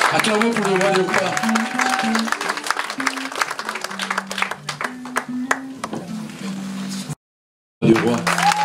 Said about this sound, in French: Acclamons pour le roi de cœur.